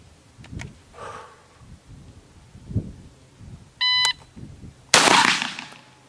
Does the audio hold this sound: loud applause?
no